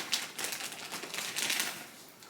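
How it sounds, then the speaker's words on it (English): Soft, faint crinkling and rustling during knitting, heard as irregular papery bursts over a couple of seconds with no talking. "Hopefully this crinkling isn't too bad."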